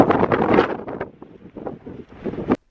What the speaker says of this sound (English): So I had to crouch down behind this large set of rocks, shielding myself from that horrendous wind.